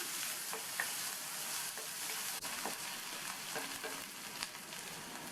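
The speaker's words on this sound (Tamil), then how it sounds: "அது கூட கறிவேப்பிலை, கட் பண்ண ஒரு பெரிய வெங்காயம், இதை 1 நிமிஷம் போல் இந்த எண்ணெயிலே வதக்கி விட்டுக்கணும்" Curry leaves and a large chopped onion sauté in hot oil for a cauliflower pepper fry, making a soft, steady sizzle with occasional light clicks of a spatula stirring the pan.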